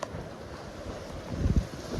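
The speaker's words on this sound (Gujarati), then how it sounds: "ભાગો ભાગો પાણી આવ્યું પાણી આવ્યું" Seawater surges in along the shore near Nikol village in Mahuva taluka, a steady rushing wash with heavy wind buffeting the microphone and a brief low swell toward the end.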